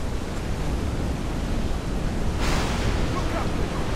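Stormy sea in Assassin's Creed IV Black Flag, a steady loud roar of surf and wind with no pauses, swelling further as a heavier wave crashes about halfway through.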